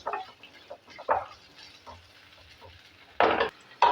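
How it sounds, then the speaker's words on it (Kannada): Fresh curry leaves are tossed into a pan of frying horse gram palya, with intermittent spatula scrapes and short sizzling bursts, the loudest surge coming near the end. "ಇವಾಗ ಇದ್ರ ಜೊತೆಗೆ ನಾನು ಒಂದು ಹಸಿ ಕರಿಬೇವು ಸೊಪ್ಪು ಹಾಕ್ತಾಯಿದ್ದೀನಿ. ಚೆನ್ನಾಗಿ ಸ್ವಲ್ಪ ಇದು ಫ್ರೈ ಆಗಲಿ."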